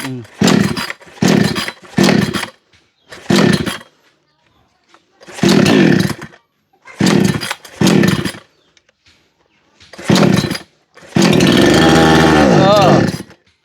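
Chainsaw bursts revving in short repeated pulses with pauses between, ending in a longer sustained roar, close and loud.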